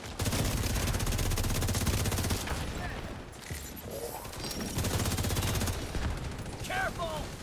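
Dense automatic gunfire in a video game, rapid bursts of shots rattling loud and near with brief pauses, plus short electronic game sounds.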